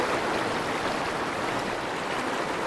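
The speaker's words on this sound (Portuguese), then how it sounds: "Correnteza muito forte." A strong, fast river current rushes through cold rapids, a loud, constant broadband roar of churning water close by, steady and unbroken with no voices.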